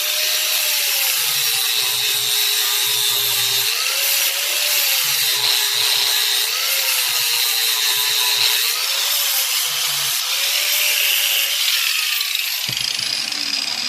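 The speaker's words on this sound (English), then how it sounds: "For that, we're going to use our angle grinder." An angle grinder cuts through a quarter-inch metal rod for a camp table build, giving a loud continuous whine with a slowly wavering pitch for about thirteen seconds before cutting off abruptly near the end.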